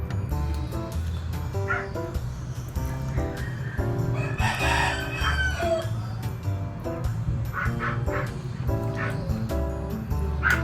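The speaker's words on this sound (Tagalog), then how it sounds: "Sarap ng tilaok ng manok" A rooster crows repeatedly, its drawn-out calls rising above a steady tonal backdrop, with short clucking bursts scattered between the louder crows.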